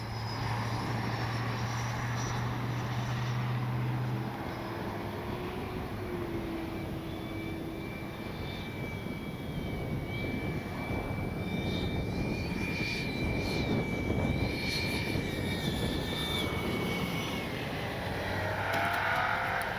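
A Freewing 80mm MiG-21 RC jet with a new power system comes in to land, its ducted-fan whine steady and loud throughout, with shifting pitch as it slows on approach.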